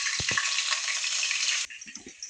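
Chopped onion and green chili hit hot oil in a pan with a loud, close sizzle that cuts off sharply partway through, leaving quieter scraping and stirring.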